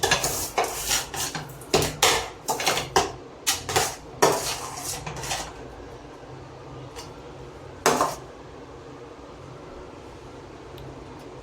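Rava kesari mixed in a pan: a quick run of close metal scrapes and clanks against the pan for about six seconds, then a lull with one more clank near the end.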